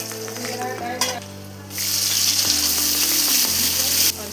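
Garlic fries in hot oil in a pan, a loud sizzle that swells into a dense crackling hiss, with a few stirring knocks under a low steady hum.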